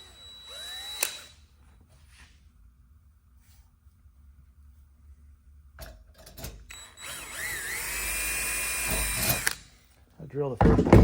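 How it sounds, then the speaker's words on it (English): Drill with a number 40 bit boring holes in a removable boot cowl on a Carbon Cub EX3 aircraft build, two bursts of high whining drilling with a rising pitch, separated by quiet pauses and light tool clicks. "I drill the first hole."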